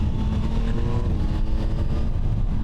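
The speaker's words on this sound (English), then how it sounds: "The exhaust is really quiet" A 2025 Yamaha MT-09 SP motorcycle in street mode gives off a steady, low, rumbling exhaust note that is fairly loud and close. It runs continuously with no speech.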